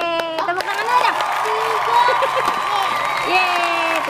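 Hand clapping from a group of children during a colour-learning play session, fairly loud and steady, with excited voices and chatter over it.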